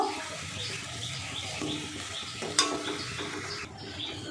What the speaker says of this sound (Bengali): গুড়টা একটু মিশিয়ে নেব